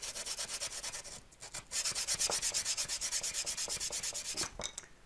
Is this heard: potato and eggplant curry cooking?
no